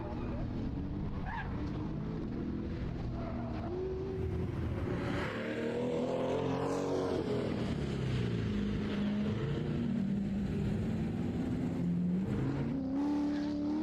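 A car runs an autocross course at a track event, its engine droning and rising and falling through shifts and throttle changes at a moderate distance, with a commentator talking over it much of the time.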